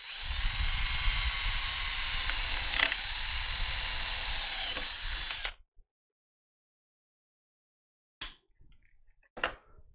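Power drill boring through V-Slot aluminum extrusion, a loud steady whine for about five seconds that cuts off, then silence and two brief sharp clicks.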